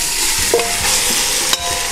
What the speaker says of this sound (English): we've let this pan come up to temperature. Okay, as you can see, it's smoking. We're gonna add our pork first